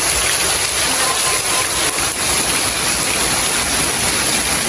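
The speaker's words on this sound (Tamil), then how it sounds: "இங்கே நல்ல மழை தான் வந்துட்டு பெஞ்சு கொண்டு இருக்குது" Heavy rain pours down in a dense, loud, unbroken roar of water, flooding around a home in Jaffna, with no talk over it.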